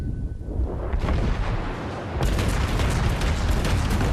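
Heavy booming and rolling explosion noise from torpedo hits and naval gunfire in the World of Warships game, with the USS Atlanta cruiser in play; a dense, loud rumble that swells sharply partway through and continues without talk.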